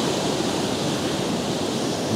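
Sea waves break against an eroding clay shore after a storm at Veselovka, a steady loud roar of surf and wash filling the whole stretch with no voices.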